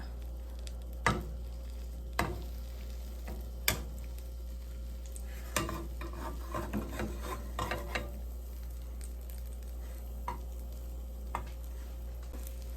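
Omelette being folded in a frying pan over low heat, a quiet sizzle underneath a few sharp spatula scrapes and taps spaced apart, with a busier cluster of scraping in the middle.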